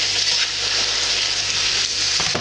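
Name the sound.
meat browning in a frying pan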